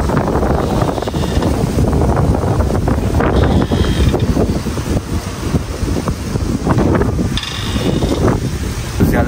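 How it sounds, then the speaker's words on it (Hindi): Strong wind roars continuously and loudly across the microphone, a dense, buffeting rush with gusty surges and no voices. "तेज़ हवा चल रही है यार बहुत ज़्यादा"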